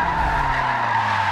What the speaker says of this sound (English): Look at that, spinning the tires.